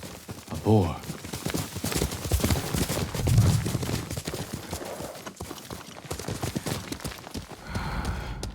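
Horse hooves clip-clop in the Ghost of Tsushima video game, a quick run of steps near the start among game sounds and a man's speech, with a faint whinny-like tone.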